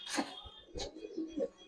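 A large female pigeon gives three short, soft cooing bursts, each close and separated by brief pauses.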